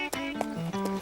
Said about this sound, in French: J'adore te regarder galoper.